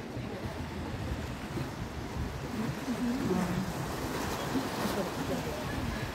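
Ocean waves wash against the shore beside a seaside cafe on the coast of Gijang, Busan, a steady, fairly loud surf roar with gusty wind across the microphone and a faint voice.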